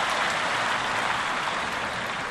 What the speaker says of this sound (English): Listen to the crowd, too.